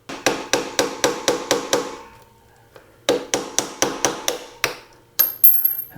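Metal tool strikes on a motorcycle drive chain during a rear sprocket and chain replacement on a 2019 Suzuki V-Strom 650XT, a flat screwdriver working a ground-off link: two rapid rhythmic bursts of about eight sharp close taps, then a brief high squeal.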